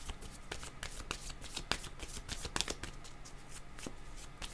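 Cards being shuffled for a card reading, a run of quick riffling flutters and soft slaps repeating close to the microphone at low volume.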